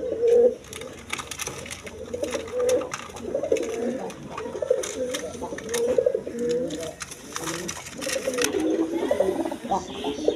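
A red Rajgolla pigeon coos in repeated low, throaty rolls close by, while someone talks over the calls.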